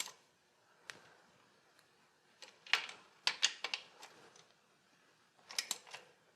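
Wrench snugging a bolt on the starter motor of a Mercedes 560SL, a series of sharp metallic clicks and ratcheting ticks in irregular bursts, close and fairly quiet with pauses between.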